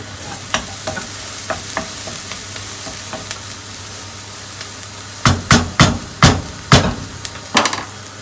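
Tikka masala cooking in a pan, a steady close sizzle running throughout, joined near the end by a burst of sharp, rhythmic knocks and scrapes of a utensil against the pan.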